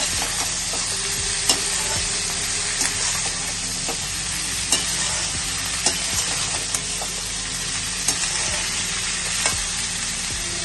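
Mixed vegetables with capsicum stir-fry for chowmein, giving a loud, steady sizzle up close, punctuated by regular clicks and scrapes of the spatula against the pan.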